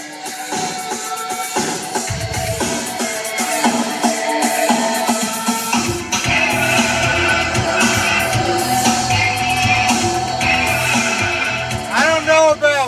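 Music with steady beats and dense instrumentation plays through the stereo of a 2005 Cadillac Escalade, loud and continuous inside the cabin for the whole stretch, with no talk over it.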